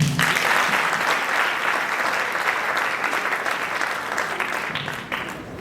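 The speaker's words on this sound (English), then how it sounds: "Can we please give them a round of applause?" A school audience at a secondary-school prefect hustings gives a sustained round of applause for the teachers, many hands clapping loudly and evenly before tapering off near the end.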